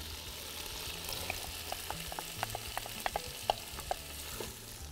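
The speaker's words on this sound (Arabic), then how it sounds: "هلا رح اضيف البصل، بدي احط شويه زبده زياده" Onions frying in butter in a pan give off a quiet, steady sizzle broken by small pops and crackles, with a few clicks of stirring through the middle of the clip.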